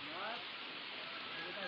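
Heavy rain pouring steadily in a mountain village near a cowshed, a dense continuous hiss of falling water close by, with no clear gaps.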